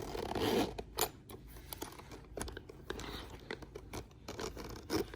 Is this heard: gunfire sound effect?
no